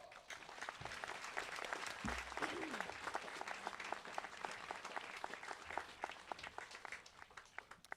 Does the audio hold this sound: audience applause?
yes